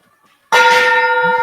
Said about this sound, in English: The gong has rung.